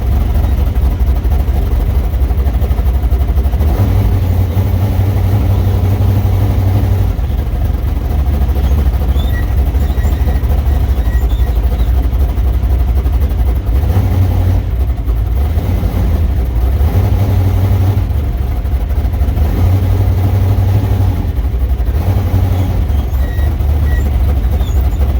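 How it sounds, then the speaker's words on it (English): A Firebird with a loud exhaust idles at a car show at Irwindale Dragstrip, a deep, lumpy rumble that pulses unevenly and holds continuously, close and loud throughout. "the Firebird with its nice loud exhaust gets a lot of looks"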